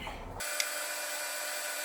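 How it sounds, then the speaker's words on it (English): A drill boring a pilot hole into a VW engine case during case prep, a steady close whirring grind that starts abruptly after a brief lower rumble and runs evenly to the end. "And drill a pilot hole and then start enlarging."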